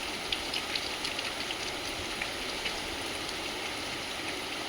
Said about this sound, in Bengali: দেখো শুরু হয়ে গেল বৃষ্টি